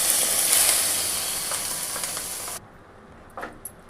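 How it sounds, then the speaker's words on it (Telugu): Bottle gourd pieces frying in a pan with dry fruits for a sweet kheer: a steady hissing sizzle that cuts off abruptly partway through, leaving faint quieter clinks and crackles, with no talk. "ఈ ఆనపకాయని కూడా వేయించుకోవాలి"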